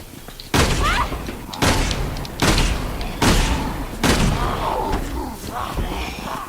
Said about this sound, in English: let's test the assault shotgun on a whopper.